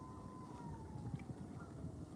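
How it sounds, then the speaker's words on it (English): A faint, distant siren wails near Hamilton harbour as a thin, slowly falling tone over low rumbling outdoor background noise. "We just had a siren go off, dude."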